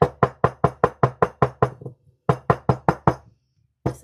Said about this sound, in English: You're going to tap it down.